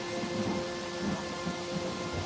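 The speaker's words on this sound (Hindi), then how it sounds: "ये बारिश तो बहुत तेज हो रही है" Heavy cartoon rain pours in a dense, steady hiss while low thunder rumbles underneath, fairly quiet throughout and with no voices.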